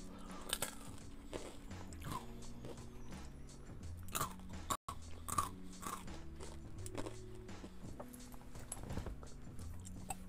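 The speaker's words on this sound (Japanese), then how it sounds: "ポリポリうるせえな。" A crunchy snack is munched close up, with repeated crisp bites and chewing crunches in an irregular rhythm throughout.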